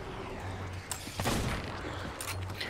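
Gunfire from a Sea of Thieves player shooting at the Kraken's tentacles: a few sharp shots over a steady background of game noise, with one louder blast near the middle.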